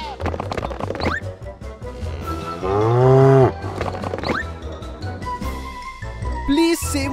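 A cow moos loudly several times, long low calls separated by short gaps, with a faint jingle of a bell near the end.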